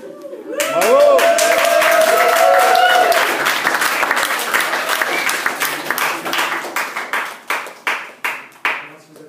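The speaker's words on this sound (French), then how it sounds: "Merci de vous applaudir." An audience bursts into dense applause, then the clapping thins out into scattered, separate claps that fade away.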